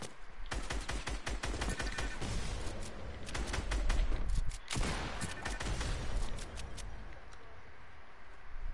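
Rapid bursts of video game gunfire crackle through a clan firefight, dense volleys with sharp repeated transients over a steady rumble, loudest mid-clip, with brief talk mixed in.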